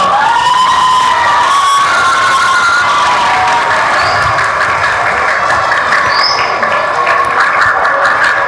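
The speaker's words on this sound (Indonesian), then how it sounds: "Ayo kita kasih tepuk tangan dulu dong." A large crowd cheers and shouts loudly and continuously, with applause mixed in and children's voices rising above the roar.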